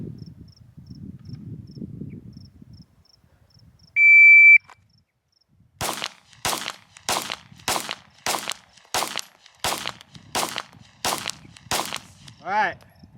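Ten sharp gunshots ring out in a steady, evenly spaced string during a shooting drill, loud and close, after a quiet stretch with a brief electronic beep beforehand.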